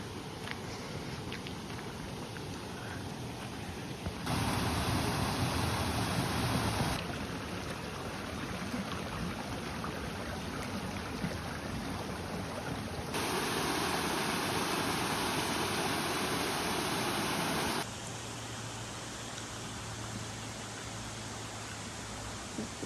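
Waterfall in Akasaka Yama park in Kashiwazaki, Niigata, among green maple trees: a steady broadband rush of falling water that swells louder in two stretches and eases back between them, with no talk.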